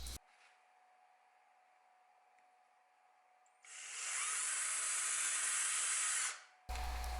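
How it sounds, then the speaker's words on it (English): A power drill with a brad point bit, drilling holes in old oak hardwood flooring, whines loudly and steadily for a few seconds after a stretch of low hiss, then winds down and cuts off. "I start the holes with a brad point bit to avoid slipping off the mark."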